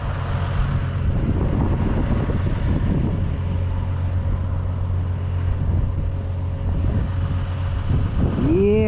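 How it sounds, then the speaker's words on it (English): Steady wind buffeting a microphone outdoors on a farm during ripping work, a continuous low rumble with a tractor-like drone underneath, loud and constant throughout. "Y'all catching that wind?"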